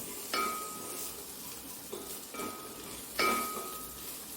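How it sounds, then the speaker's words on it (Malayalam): Garam masala, turmeric and pepper powders are sautéed in a pan for a soya chunks curry, with a quiet sizzle broken by three sharp scraping clinks of a spoon against the pan, spaced about a second apart. "ഗരം മസാലപ്പൊടി, മഞ്ഞൾപ്പൊടി, കുരുമുളക് പൊടി. ഇതൊന്ന് നമുക്ക് ഒന്നും കൂടി ഒന്ന് നല്ലപോലെ വഴറ്റാം."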